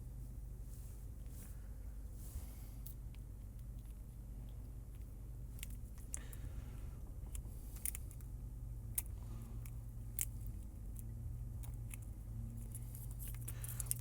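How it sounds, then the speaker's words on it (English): Scissors snip repeatedly at close range, giving a series of small, sharp cuts scattered irregularly over a low, steady hum, with no talking. "Just going to snip these out."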